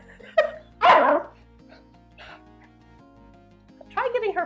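A young schnauzer puppy gives a couple of sharp barks and yips indoors, close by, with a quiet stretch between them and a fuller burst of barking near the end.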